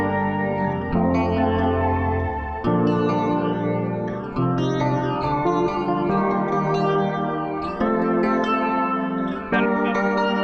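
A Rhodes electric piano plays chords alongside a chorus-effect guitar in a song intro, layered with echo and reverb, loud and sustained with several phrase changes and no talking.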